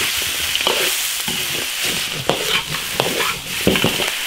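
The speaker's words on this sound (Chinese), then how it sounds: "现在把所有的调料炒香、炒入味" Spices and seasonings, including ginger, garlic, Sichuan pepper, chili, salt and soy sauce, sizzle and scrape as they are stir-fried in an iron wok, with steady frying hiss punctuated by repeated sharp spatula clanks close by.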